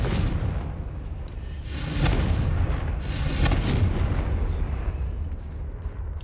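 Confringo blasting spell going off in the Hogwarts Legacy game, a deep rumbling boom with a crackling burst of fire that swells and fades over several seconds.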